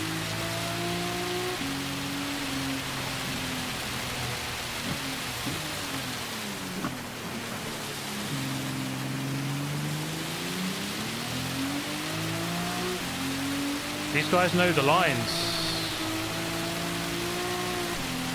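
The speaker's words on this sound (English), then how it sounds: "Oh, that rain is so loud." Heavy rain drums steadily throughout a Gran Turismo 7 race, layered over a droning car engine whose pitch rises and falls through gear shifts, with a brief spoken remark midway.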